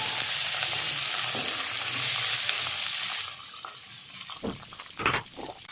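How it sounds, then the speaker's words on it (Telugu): Green chillies, curry leaves and thinly sliced onions hit hot oil for a crab curry, giving a loud steady sizzle that eases into softer frying with stirring and clinks from the pan, no voices. "ఆయిల్ అయితే వేడైపోయింది. సో పచ్చిమిర్చి, అలాగే కరివేపాకు కూడా, నెక్స్ట్ సన్నగా కట్ చేసుకున్న ఆనియన్స్"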